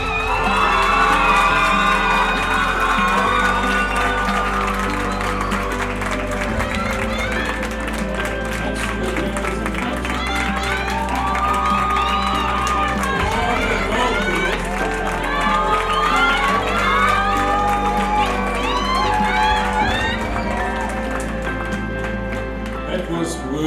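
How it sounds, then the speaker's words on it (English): A graduating class at a valedictory ceremony cheers loudly for their parents, a sustained crowd roar of shouts and whoops mixed with music-like tones, steady throughout with voices rising and falling. "Let's give them a big cheer in their absence."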